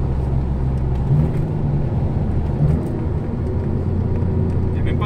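An Alfa Romeo GT with the 3.2 V6 Busso engine drives at steady speed, a loud continuous low engine drone and road rumble heard from inside the cabin, with brief swells in pitch.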